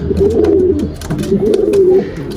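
Isbir flight pigeons in a newly finished coop give repeated rolling coos, two long throaty phrases close by and fairly loud, with faint rustling between them.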